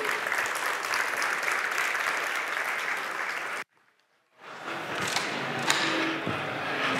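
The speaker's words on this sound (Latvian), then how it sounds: "Un, mēs sagaidām ar jūsu aplausiem, es ceru" Audience applause welcomes a security director onto a Samsung Knox stage in Latvia: loud, dense clapping cuts off abruptly into brief silence, then resumes as lighter, scattered clapping with a few thumps.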